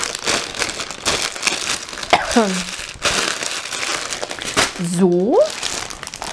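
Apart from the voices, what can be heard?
packaging bags crinkling while being repacked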